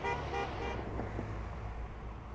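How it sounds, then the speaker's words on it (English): Car horns toot over steady roadway traffic noise after a city council vote brings a new Target store to Lawton, one or two blasts early, then a continuous road rumble. "people were shouting congratulations and honking horns"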